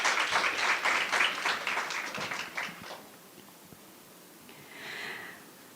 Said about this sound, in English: Ladies and gentlemen, a round of applause for Mr. Dovey.